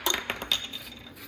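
Chopped tofu tossed with sesame oil and chili garlic salt, giving a few quick, close clinks of a utensil against a bowl in a short irregular burst.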